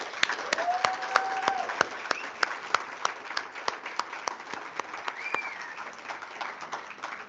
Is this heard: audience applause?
yes